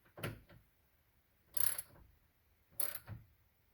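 A wrench tightens the battery terminal on a 2003 Dodge Ram 2500 V10, making three short separate clusters of metallic ratcheting clicks, close and clear in a quiet garage with no talking.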